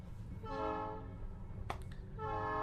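A train rolls past nearby with a continuous rumble and a long, loud horn blast that fades out, then sounds again near the end, with a brief clatter in between.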